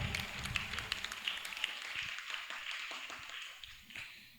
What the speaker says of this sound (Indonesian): Kasih tepuk tangan lagi buat Al-Farizi.